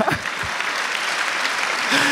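Conference audience applauding a speaker's joke, a sustained patter of clapping with brief vocal sounds near the start and end.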